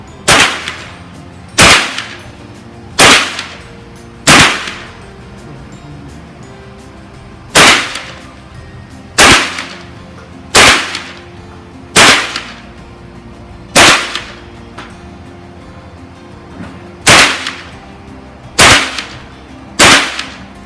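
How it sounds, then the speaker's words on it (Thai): Single shots from an HK416 assault rifle at a firing range, each a loud, sharp crack with a short ringing tail, fired one at a time at roughly one- to two-second intervals, about a dozen in all with no talk. "HK กระบอกนี้ เริ่มยิง"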